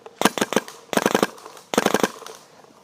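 A 2011 Proto Rail paintball marker fired in three quick bursts of about four sharp pops each, close and loud with brief pauses between.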